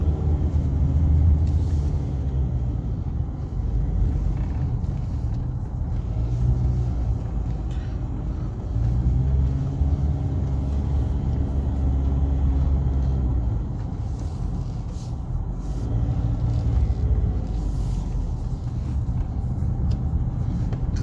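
A car drives at night on an isolated road with LED fog lamps lit, a steady close engine and road rumble from inside the cabin, swelling and easing slightly over a long unbroken stretch.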